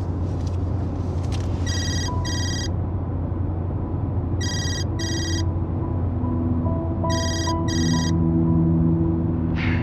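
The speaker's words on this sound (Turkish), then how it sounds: "adamın telefonu çalıyor" A mobile phone ringtone rings in repeated bursts of bright electronic double tones, three pairs spaced a couple of seconds apart, loud and close over a steady low engine rumble as if inside a moving vehicle.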